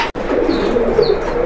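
Pigeons of king, satin and magpie breeds coo in a brief, close burst of soft, rolling calls over steady background noise.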